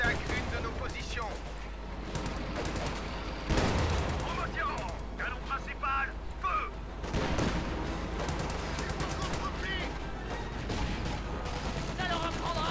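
Artillery barrage in the World War II strategy game Company of Heroes 2, Battle of the Bulge campaign: rolling volleys of booms and gunfire over battlefield ambience, with heavier blasts standing out amid the clatter and voices heard during the action.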